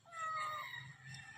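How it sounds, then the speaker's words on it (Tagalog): A stray kitten found in cut grass gives a single faint, brief meow, soft and close with no talk over it. "nakakita po kami ng pusa"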